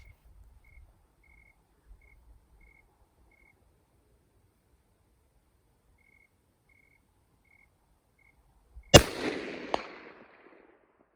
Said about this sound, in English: we're gonna take some shots at 200 yards at my gong